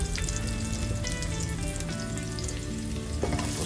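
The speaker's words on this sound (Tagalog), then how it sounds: "So ngayon po pagka mainit na siya, ilalagay po natin yung garlic." Minced garlic from one medium bulb frying in hot annatto chili oil, a dense steady sizzle and crackle close up, continuous and fairly loud with no voices.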